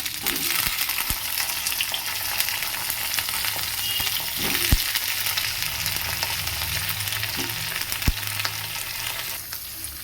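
Taro pieces frying in a pan with green chili, a steady dense sizzle held throughout, with a few sharp clinks of a utensil stirring them.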